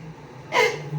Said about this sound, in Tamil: மூச்சு வாங்குது